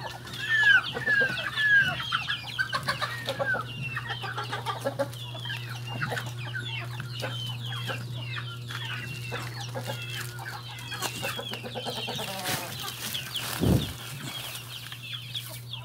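Chickens cluck and chatter continuously inside a henhouse, with chicks nearby and a steady low electrical hum underneath; one brief louder knock stands out near the end.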